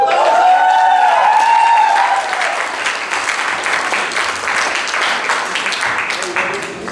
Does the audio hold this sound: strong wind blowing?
no